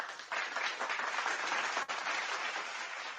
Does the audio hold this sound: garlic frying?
no